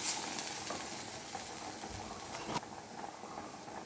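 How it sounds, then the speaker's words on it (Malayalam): Coriander powder and spices sautéing in a pan for a masala curry, a soft continuous sizzle with a few faint scrapes of stirring, quiet and close with no voice. "ഒരു ടീസ്പൂൺ മല്ലിപ്പൊടിയും കൂടെ നമുക്ക് ചേർത്ത് അതുകൂടെ ചേർത്ത് വഴറ്റി കൊടുക്കാം"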